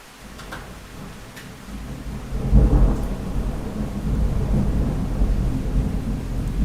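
Heavy rain pours in a thunderstorm while low thunder rolls in and swells to a deep, sustained rumble, loud and enveloping, with no speech.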